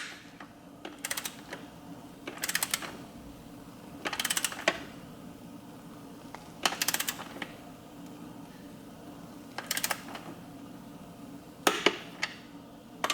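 Bolts on an intake manifold spacer for a V6 Camaro being tightened to torque with a hand wrench, giving several short bursts of metallic clicking spaced every couple of seconds over a quiet background.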